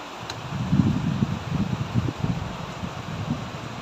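A steady whooshing airflow hum with soft low rustling, close and continuous, like a fan blowing near the microphone.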